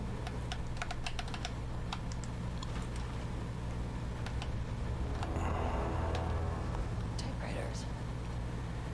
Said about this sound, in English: a room full of them all clacking away